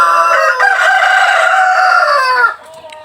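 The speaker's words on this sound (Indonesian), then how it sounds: "ayam yang kita besarkan untuk indukan" A rooster crows loudly and close by in a coop where hens are raised for breeding, one long drawn-out call that breaks off sharply, followed by quieter clucking.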